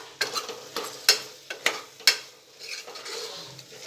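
Gram flour and spices stirred and sautéed in a pan, heard as a soft sizzle broken by several sharp scrapes and taps of a spoon against the pot, close and fairly quiet with no voices.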